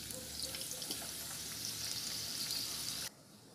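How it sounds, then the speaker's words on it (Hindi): Methi muthiya, fenugreek dumplings, frying in hot oil with a continuous close sizzle and bubbling that cuts off abruptly near the end. "अब हम इसी प्रकार दूसरे मेथी मुठियाँ भी फ्राई करेंगे।"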